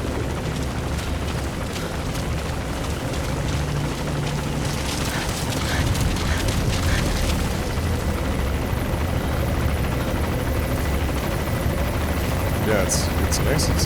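Helicopter in the stealth action game Metal Gear Solid V: The Phantom Pain, a continuous loud rotor drone mixed with rumbling game effects and occasional bursts, steady throughout with voices faintly underneath.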